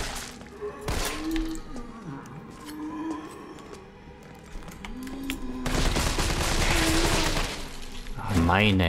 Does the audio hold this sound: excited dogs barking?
no